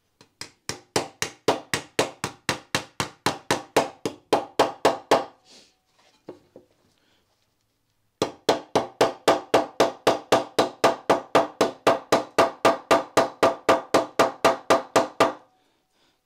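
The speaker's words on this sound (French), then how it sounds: "Tu martèles tout le long sur le trait." A hammer striking sheet metal along a marked line during bodywork panel forming: two long runs of sharp, evenly spaced blows, each run speeding up and getting louder, with a short quiet pause and a few light taps between them.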